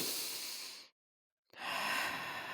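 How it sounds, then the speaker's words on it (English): A deep breath drawn in then released, a soft airy hiss split by a short silent pause, close and alone in a calm setting. "take a deep breath with me."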